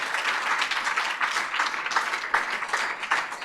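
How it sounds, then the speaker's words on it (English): Steady applause from a conference audience for a patient panel at a sickle cell disease event, a dense even clapping that holds at one level for the whole stretch. "Can we give them all another round of applause?"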